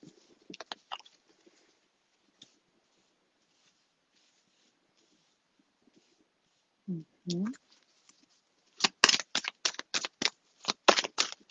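Tarot cards being shuffled close up, a few soft riffles early, a short voice, then a rapid run of crisp card flicks and snaps near the end.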